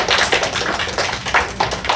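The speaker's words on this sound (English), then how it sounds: "Clap it up again." A classroom of students clapping together, a dense, quick burst of many hands close by that carries on for about two seconds with no talk.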